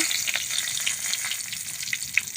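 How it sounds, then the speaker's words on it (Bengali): Two bay leaves crackle in hot oil as a tempering for a chicken kosha, a steady close, bright frying sizzle that runs alone throughout with small popping spikes. "ওই তেলে ফোড়ন হিসাবে দুটো তেজপাতা"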